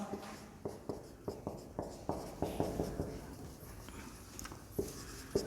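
Chalk or pen strokes tap and scrape in a steady series of short sharp knocks during a science lesson, with a teacher's voice speaking between and over them.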